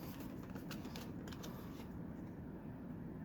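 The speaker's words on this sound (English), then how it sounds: "Now, I'm just going to shuffle these." Playing cards being shuffled, a quiet steady riffling rustle lasting a few seconds, close by and without speech.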